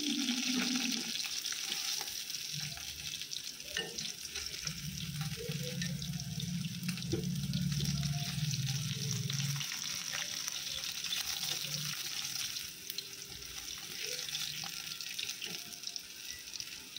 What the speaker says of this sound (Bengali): চিংড়ি মাছগুলো এপিট ওপিট করে নাড়াচাড়া করে নামিয়ে নেব